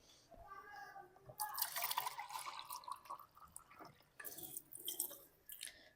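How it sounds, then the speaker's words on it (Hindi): Water is poured into a pan to make tea, with two soft splashing bursts of running liquid, fairly faint and close, separated by a brief pause. "इसमें पानी ऐड करना है हमें, पहले पानी डालते हैं"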